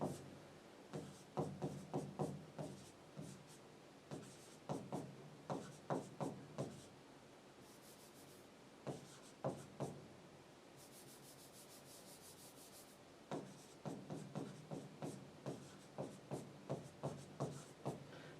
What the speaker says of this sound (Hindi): यहां पर मैं इस तरह से लिख रहा हूं